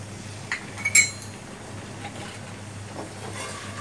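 A sweet-and-sour whole olive pickle stirred after vinegar is poured in: a few close spoon clinks against the pot bunched near the start, then soft faint stirring, no voices.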